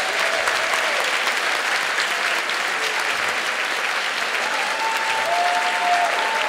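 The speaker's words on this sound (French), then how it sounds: "Une bonne main d'applaudissements" An audience applauds for Gaston Morin at a municipal 100th anniversary ceremony in Sainte-Jeanne-d'Arc, a dense steady wash of clapping hands sustained for several seconds with no pauses.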